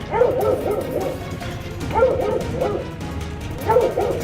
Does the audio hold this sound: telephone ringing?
no